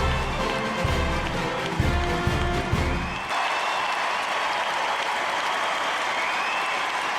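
A crowd claps and cheers in welcome, loud and dense for about three seconds, then fades into a softer, more distant wash of applause.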